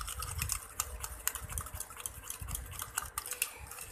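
Egg and tomato mixed together by hand in a bowl for a face mask, a close, continuous rhythmic stirring and clinking with a low churning undertone, no voices.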